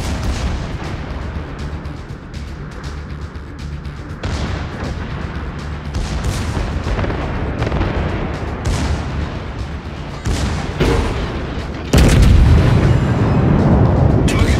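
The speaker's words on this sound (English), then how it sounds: "battleship destroyed" Naval battle in the video game Monarch as a battleship is destroyed: repeated heavy artillery booms and explosions over a continuous roar, building to a louder, denser blast near the end.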